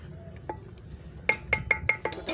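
Metal lid set onto a cooking pot of daal mash, a short series of light clinks and clatters in quick succession, close and fairly clear.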